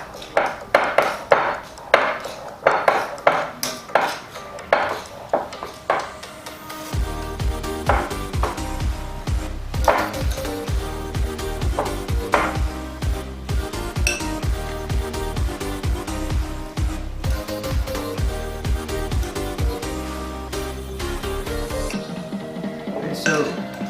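Two knives cut through biscuit dough in a bowl, giving a run of quick scraping clicks and taps, then steadier rhythmic chopping and clinking that continues for a while.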